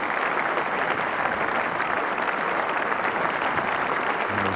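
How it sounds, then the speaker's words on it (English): Steady, dense applause from a cricket crowd at a 1989 England versus Australia Test as a batsman reaches a half-century, continuous and fairly loud throughout with no voices standing out. "There's Jeff Lawson applauding there"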